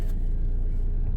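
A car idles at an electric workplace door with a low, steady engine rumble that holds evenly for just over a second.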